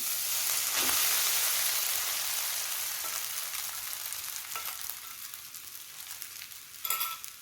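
Steady loud sizzling of ground boiled corn frying in ghee, close up, with occasional stirring scrapes and a brief clatter near the end.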